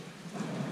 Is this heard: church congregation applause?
no